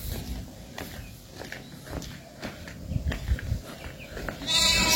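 A goat bleats in a hillside village in the forest, heard faintly among footsteps and outdoor background noise, with no talk.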